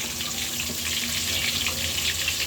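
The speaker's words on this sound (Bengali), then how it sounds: "আর এই যে এক পিস করে মাছটা ভেজে নিব।" Tilapia fish pieces fry one at a time in hot oil in a wok, giving a steady, close, moderately loud sizzle that runs through the whole clip with no talking.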